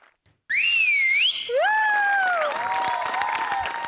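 A loud, sliding whistle rises and falls, followed by a second long whistle over crowd noise and scattered claps, from a comedy show audience.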